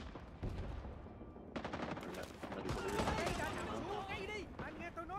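Shotgun blasts in Rising Storm 2: Vietnam, a rapid burst of loud shots followed by continued gunfire with a crackling, chaotic battle texture and some background voices.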